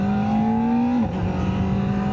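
A new 2025 Kawasaki ZX4RR motorcycle engine with a bi-directional quick shifter holds a loud, high, steady whine, then drops in pitch at a quick gear change and keeps droning without speech.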